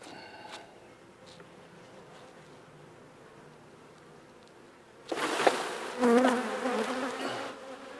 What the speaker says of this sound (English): These are all nurse bees.